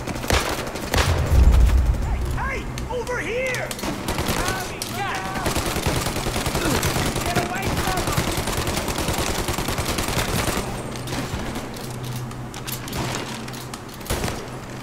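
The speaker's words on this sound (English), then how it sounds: "shooting at the ranger" Gunfire in Mafia Definitive Edition: rapid volleys of shots and machine-gun bursts with clanks and shouting voices, dense and loud through much of the stretch.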